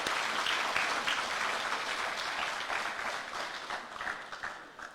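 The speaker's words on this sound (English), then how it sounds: "Can we give him another round of applause," An audience at a university education event applauding a dignitary, dense sustained clapping from a large crowd that slowly tapers off.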